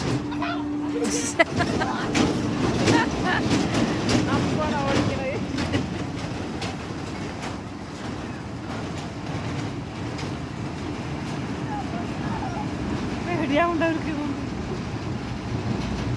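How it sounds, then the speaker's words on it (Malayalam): A train rumbles past with rhythmic clacking and rattling, fairly close, while people talk over it. "ട്രെയിനിൻ്റെ സൗണ്ട് അല്ലേ"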